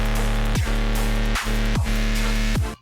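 A layered Serum synth sub bass patch plays alone, deep sustained low tones moving in a steady pattern with pitch glides dropping between notes, loud and full with brighter harmonics on top.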